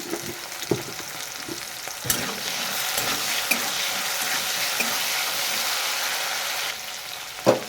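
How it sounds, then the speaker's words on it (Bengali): Potatoes fry in fish oil in a pan with a loud, continuous close sizzle, broken by several sharp scraping knocks from stirring. "আলু চাষটা লাল লাল করে ভাজা হয়ে গেছে"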